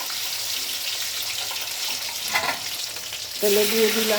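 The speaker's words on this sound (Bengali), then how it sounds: "এই যে কিশমিশ তেলে দিয়ে দিলাম" Raisins frying in a mix of ghee and oil with bay leaf and cardamom, a steady close sizzle that swells louder toward the end, with faint stirring.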